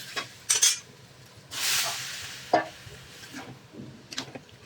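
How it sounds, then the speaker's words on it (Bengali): Peas poured into a pan for ghugni, followed by stirring: a few soft clinks and scrapes of a utensil against the pan and a brief rushing pour, quiet and close with no voices. "মটরগুলো ঢেলে দিয়েছি।"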